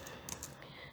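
A few light clicks of a computer keyboard as a search query is typed into a legal judgment search site, faint and sparse in a quiet room.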